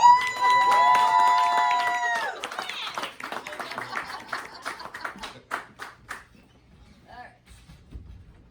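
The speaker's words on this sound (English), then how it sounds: "Let's hear a big warm applause for Karen Waldkirch." An audience at a stand-up comedy show applauds and cheers as a comedian is introduced, with dense clapping at first that thins into scattered claps and fades, while a voice rings out briefly at the start.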